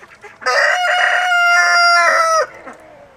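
A rooster on a farm gives one loud, close, drawn-out crow that lasts about two seconds, with fainter clucking before and after.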